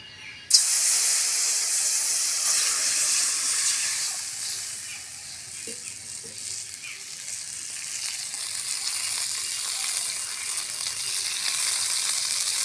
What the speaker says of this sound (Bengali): সিমগুলো আমার ভাজা হয়ে গেছে এবারে জল দিয়ে দেব